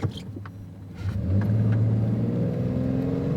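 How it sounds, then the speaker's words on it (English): A six-cylinder pickup truck engine revs up and accelerates, its steady rising drone growing louder and holding strong as it pulls away, with no talking. "As we take it to drag strip alley and step on the gas"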